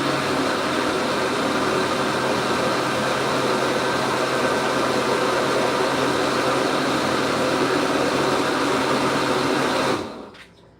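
A blender packed with fruits and vegetables runs loud and steady at close range with a constant motor whine for about ten seconds, then cuts off abruptly near the end.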